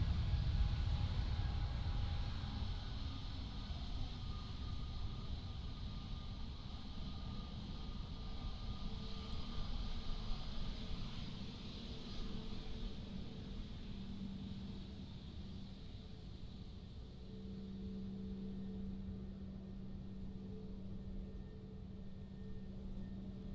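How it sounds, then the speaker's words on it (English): An EasyJet Airbus A320-200neo airliner at Amsterdam airport produces a low, steady, distant engine rumble and roar that holds and fades slightly, with no voices. "Next up we have the EasyJet, another A320-200neo, and this is going to London."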